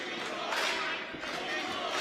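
A wrestling event crowd roars and cheers in a steady, broad wash of noise that fills the arena, with a commentator's voice talking over it.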